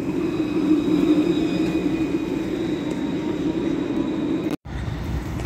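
A tram in Nice passes with a steady, loud rumble and faint high whines. The noise holds for several seconds, then cuts out abruptly for an instant before resuming.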